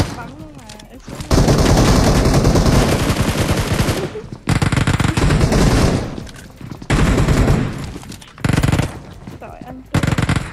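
Sustained automatic gunfire from PUBG Mobile, loud and dense, firing in long bursts broken by short pauses, with brief bits of talk at the start.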